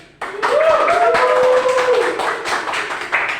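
A teacher claps his hands during a micro-teaching physics lesson on Archimedes' law; quick, fairly even claps ring out close by, mixed with a voice that carries on over them.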